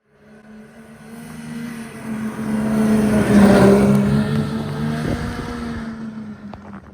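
A Ski-Doo MXZ Blizzard 900 ACE snowmobile on its Rev XS trail platform runs along a trail, its engine droning steadily and swelling louder near the middle before easing off slightly, heard alone without talk.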